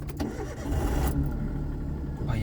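A tractor with a weak battery tries to start, the engine cranking and catching roughly in loud, uneven bursts that surge and sag, close by, with no one talking.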